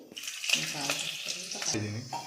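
Onion and fenugreek leaves hit hot oil in a home kitchen, giving a steady, close sizzling hiss throughout, with faint tonal voice-like sounds in the background.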